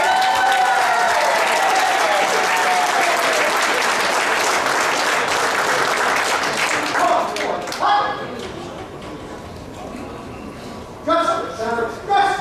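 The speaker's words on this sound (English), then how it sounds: "We'll give them a big round of applause," An audience at the 2011 BHOF championships in Bridgeport, Connecticut, gives a big round of loud, sustained applause and cheering that fades into scattered clapping and crowd noise.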